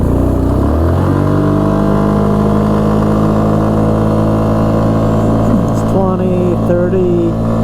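A 2005 Yamaha Kodiak 400 4x4 ATV engine roars at full throttle, a loud, steady, close drone that climbs in pitch as it accelerates, with no talk over it.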